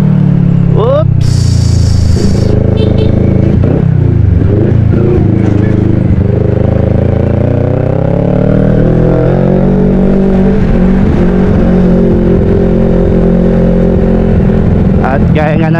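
Congested road traffic of cars and motorcycles idles and creeps along nearby, with engine hum and revving, loud and continuous throughout.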